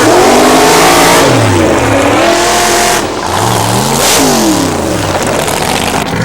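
Loud drag-race launch from a qualifying round, with stock-based race cars including a 300ZX and a Z28 Camaro revving hard. Engines howl upward through rapid gear changes, and rising pitch sweeps overlap as both cars accelerate close by.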